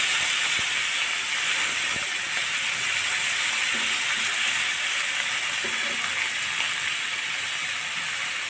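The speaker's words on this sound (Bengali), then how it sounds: "আমি সুন্দর করে ভাজি ভাজি করে নেব" Garlic paste with sugar and cardamom frying in a pan for a spicy fish fry, giving a steady, loud, continuous sizzling hiss with no talk.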